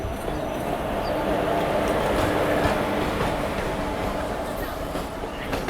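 A WP4-hauled local train from Adra, made up of old ICF coaches, approaches near Santragachi on the Howrah–Kharagpur line, giving a steady, loud rumble of wheels and carriages that holds evenly throughout.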